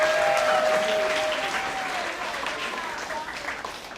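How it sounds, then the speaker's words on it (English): A room of guests at a 50th birthday celebration applauds the speaker's wife, loud dense clapping that starts strong and gradually thins, with voices and cheering mixed in. "So a big round of applause for my wife,"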